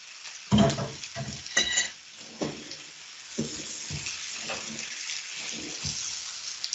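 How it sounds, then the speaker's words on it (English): Food sears in a hot pan after being flipped, with several sharp sizzling bursts and clattering thumps in the first few seconds, followed by a softer, steady crackle. "I'm just going to flip these over"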